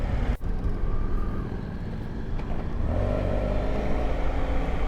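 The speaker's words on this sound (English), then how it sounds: "Now we're riding towards the coast on Highway 84. Probably got a group of maybe up to 40 bikes." A group of up to about 40 motorcycles riding together toward the coast on Highway 84, a steady loud engine rumble with wind roar throughout, swelling slightly near the end.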